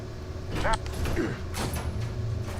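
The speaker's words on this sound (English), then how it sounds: "I'm opening the doors." Heavy mechanical doors grinding open in Batman: The Telltale Series, with creaking, sliding clanks and a low mechanical hum under faint background game sounds.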